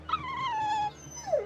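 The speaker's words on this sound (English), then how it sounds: "Dogs?" A dog in the video game Tales of Berseria gives a drawn-out whimper followed by a shorter whine, faint and alone.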